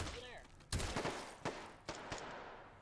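Gunfire rattles through a hallway in a competitive shooter video game, several loud sharp bursts spaced across a few seconds, with a voice briefly heard at the start.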